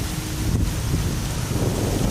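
Steady broadband rain wash with low rumble on a congested road during wet weather, traffic crawling slowly through the downpour, continuous and fairly loud with no talk.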